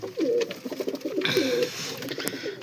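Black Cheena pigeons coo in soft, repeated throaty calls nearby, with a brief fluttery rustle partway through and faint background noise.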